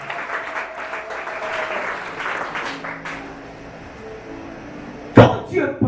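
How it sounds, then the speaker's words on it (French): A church congregation breaks into applause and cheers near the end, loud and close, following a stretch of a preacher's voice over a busy hall. "Est-ce qu'on peut acclamer?"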